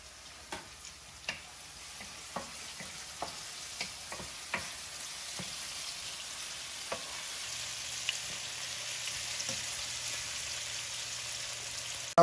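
Peppers and onions fry in a pan with a steady, even sizzle, punctuated by sharp clicks and taps of stirring in the first half that thin out later, close and continuous with no talking.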